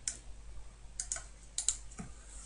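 A few light computer keyboard keystrokes while using 3D modeling software, faint and close, arriving as sparse isolated taps with quiet gaps between them and no talking.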